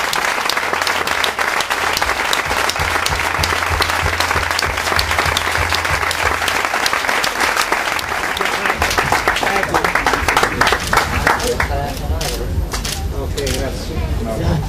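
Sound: audience applause

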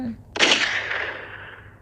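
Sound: gunshot echoing through forest

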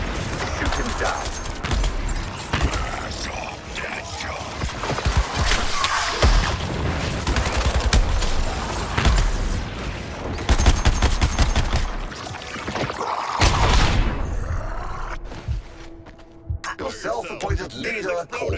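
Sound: gunfire in Suicide Squad: Kill the Justice League video game

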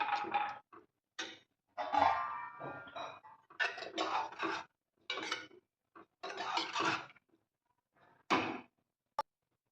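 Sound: lid placed on a cooking pot

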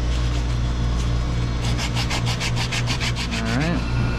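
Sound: sanding copper refrigeration line before cutting

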